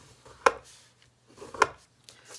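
A tool scores a line across folded cardstock for a paper treat holder, making two sharp, isolated scraping strokes about a second apart, close and fairly loud.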